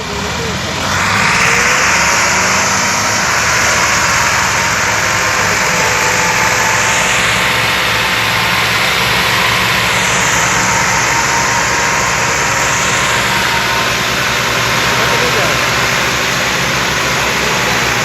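Massey Ferguson 260 and 360 tractors and a Fiat 480 tractor haul a trolley with a heavy load of sugarcane, giving a loud, continuous engine drone that barely changes throughout.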